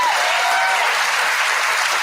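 A television studio audience applauds during a late-night talk show, a brief, loud, continuous wash of clapping with a faint tone briefly running beneath it.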